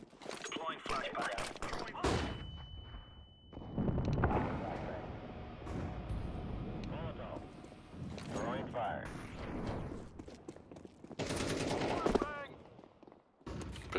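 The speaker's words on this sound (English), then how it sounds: "Deploying flashbang." Flashbang bursts and gunfire in Counter-Strike 2 on the Vertigo map, with a dense run of loud shots and blasts continuing through the stretch and a brief high ringing tone near the start.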